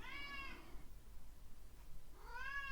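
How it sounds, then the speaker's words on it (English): A pet cat crying at a closed door, two drawn-out meows close by, one at the start and another near the end, with a quiet indoor pause between them. "My cat just cried at the door."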